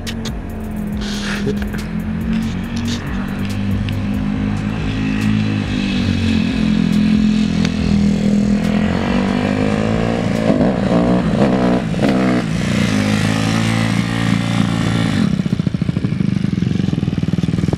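A Honda CRF150R dirt bike engine runs at a high idle and revs, its loud, close buzzing rising and falling in pitch for the whole stretch without speech.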